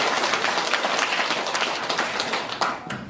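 An audience at a Catholic prayer meeting gives steady, dense applause that carries on without a break for a few seconds.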